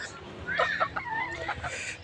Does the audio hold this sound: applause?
no